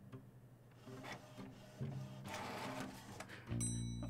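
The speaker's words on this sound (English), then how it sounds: "Is that the noise of a receipt printer?" A receipt printer whirs and chatters in the video game Frog Detective 3, rising in bursts of mechanical feeding before a louder, steady buzzing run at the end, alone and fairly close.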